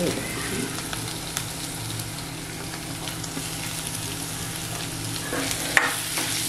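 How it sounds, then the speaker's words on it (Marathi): Mashed potatoes being stirred and sautéed in a pan for bread pakoda filling, giving a steady soft sizzle with scraping stirs throughout and a sharper clink near the end, no voices. "बटाटे काय ना 5 मिनिटं तरी अशी व्यवस्थित परतून घ्यायची"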